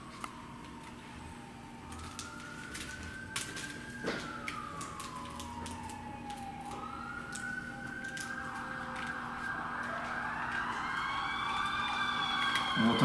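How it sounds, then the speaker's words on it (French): Police sirens wailing on a Los Angeles street at night, the eve of the Fourth of July, rising and falling tones that start distant and grow louder and nearer with overlapping wails. "On entend les sirènes de flics"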